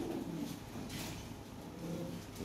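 Lahori pigeons of a pure-blood master pair coo softly and steadily at close range, a low murmuring song that continues through the whole moment with no talking.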